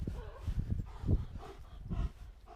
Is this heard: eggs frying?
no